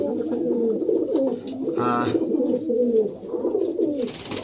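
Black Diamond pigeons coo in a steady, close, repeating murmur, with a brief higher chirp in the middle and a faint rattle near the end.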